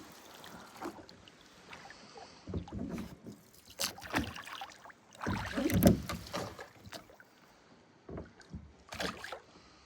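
A boat is rowed on open water, with irregular knocks and splashes of oars, close by and moderately loud, over a faint wind background.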